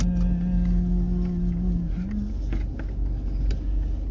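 A car maneuvers to park on the road beside a cricket ground in Saudi Arabia, with a steady low engine drone, a sustained tone that shifts slightly midway, and faint rattles, close and fairly loud.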